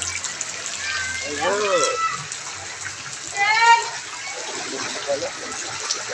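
Floodwater flowing and gushing during a flood in Fairview, a continuous watery rush heard from indoors while people talk over it.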